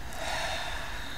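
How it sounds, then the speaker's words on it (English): One deep, drawn-out breath, a soft airy inhale or exhale heard close and quiet over a low background, with no speech during it. "allowing, consciously choosing to breathe because it is the connection"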